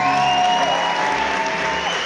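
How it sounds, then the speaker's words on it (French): Applause and cheering from a crowd at a Paris bachata dance festival, a steady loud wash of clapping with voices mixed in, continuous throughout. "Un tonnerre d'applaudissements pour les bénévoles."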